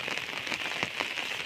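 Steady rain patters on a hard surface, a continuous close hiss dotted with scattered individual drops and no voices.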